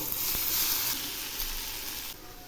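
Grated potatoes hit hot oil tempered with dry chili and nigella seeds, a close, bright sizzle with one sharp tap early on, easing slightly toward the end.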